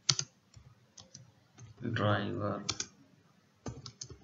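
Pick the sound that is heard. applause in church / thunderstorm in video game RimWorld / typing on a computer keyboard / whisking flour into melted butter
typing on a computer keyboard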